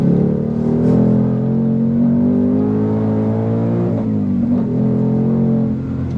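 A 2024 Ford Mustang Dark Horse on a short, choppy race track, its engine droning loud and close with steady harmonic tones that dip briefly mid-pass, then climb again as it keeps pulling.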